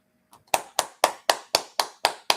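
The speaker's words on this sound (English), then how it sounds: "Clap it up! Clap it up!" Eight sharp hand claps in an even, steady rhythm, close and clear, with no talking.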